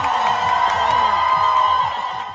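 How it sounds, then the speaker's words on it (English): Recorded crowd at an abortion-rights rally, loud and continuous with shouting, whoops and ululating voices layered over a dense roar, played back on a radio broadcast. "Listen to the crowd."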